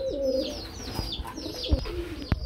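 Pigeons coo in soft, rolling low calls, several overlapping at close range amid a bird market with chirping and a couple of dull knocks in the background.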